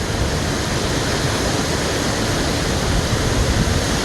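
Heavy rain pours hard during a Tampa thunderstorm at a front doorstep, a dense, continuous, loud hiss that never lets up, with no one talking.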